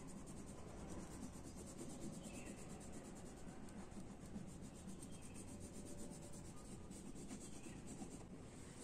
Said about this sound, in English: first color these leaves with green crayon